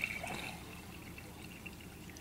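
Homebrewed beer from an all-grain batch pours into a glass in a quiet, faint, continuous trickle with a few small drips and splashes, heard close up without talk.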